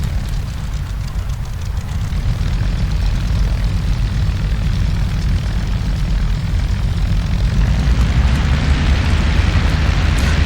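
Spitfire engine started in a WW2 flight simulator, a steady, loud, low propeller-engine roar running continuously at idle with a slightly rising rumble toward the end.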